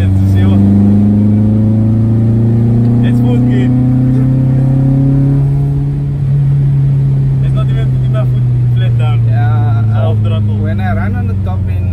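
Honda B20B engine in a throttle-fed Stage 2 car, a loud steady drone with rising harmonics as it revs hard in gear, filling the cabin throughout.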